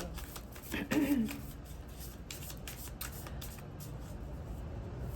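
Playing cards being shuffled at a table for a reading, a soft papery riffle burst near the start followed by quieter rustling under a steady background hiss.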